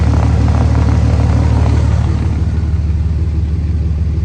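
A Cummins truck drives on a snowy test drive, its engine giving a loud, steady low rumble that holds close and continuous throughout with no talk.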